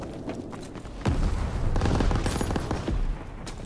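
Gunfire from Call of Duty: WWII multiplayer: rapid, dense bursts of shots and blasts, loud and close, running steadily through the clip.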